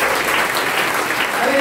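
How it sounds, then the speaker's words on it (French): A church congregation claps together during a morning service, a dense, loud, continuous wash of applause from many hands filling the room. "Nous applaudissons ce matin."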